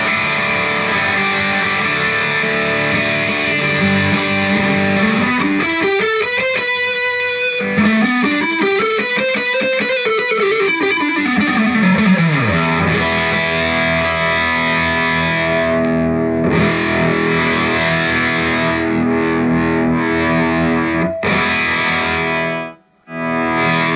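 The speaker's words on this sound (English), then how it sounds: "this is just a straight up initial test of the guitar to see what it sounds like" Jackson X Scott Ian King V KVXT electric guitar played with heavy distortion, loud sustained chords and riffs with swooping pitch bends, running almost continuously before a short cutoff near the end.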